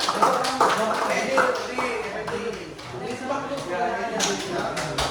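A small music class claps in a brief burst of scattered hand taps for a student, while voices continue talking throughout.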